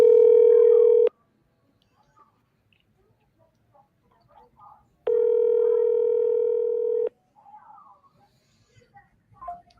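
A telephone call tone rings out in two long, loud, steady electronic bursts with a silent gap of about four seconds between them. Faint voices are heard in the quiet stretches of an outbound call.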